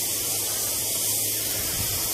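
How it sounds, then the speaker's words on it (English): A steady, loud hiss of water spraying continuously onto garden soil, close by, with no pauses. "So we're going to spray it down."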